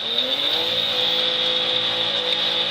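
A car engine revs with a rising then sustained whine as a driver keeps trying to move the vehicle during a police stop, loud and continuous with a steady high-pitched tone over it.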